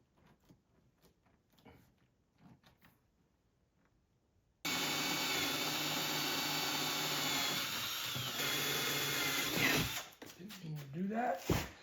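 Power drill driving screws into the bottom of a 1946 Willys CJ2A Jeep seat during reupholstering: after quiet shuffling, one long continuous high whine runs for several seconds, then stops amid handling noises and a brief voice.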